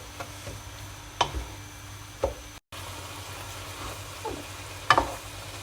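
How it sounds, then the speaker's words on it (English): Minced meat for chilli con carne fries in a pan over full heat, giving a quiet steady sizzle with a few scrapes and clicks of stirring. It stays close and low, with no voices. "the heat's on full blast now, and the meat is getting slowly cooked"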